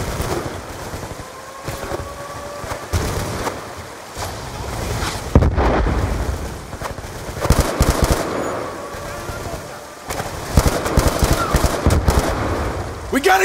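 Dense game gunfire from Call of Duty: Black Ops 2, with machine-gun bursts and scattered shots rattling loud and close for the whole stretch. Shouted voices cut in at times.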